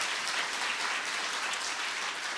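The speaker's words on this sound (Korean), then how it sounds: "다시 한번 큰 박수 부탁드립니다" Steady crowd applause from an audience at a Pusan National University president's farewell ceremony, dense and even clapping sustained throughout at moderate volume with no voices.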